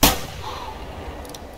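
A single rifle shot fired at a wood grouse in theHunter Classic, one loud close crack at the start with a brief rolling echo fading away.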